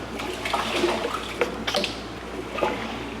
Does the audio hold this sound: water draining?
yes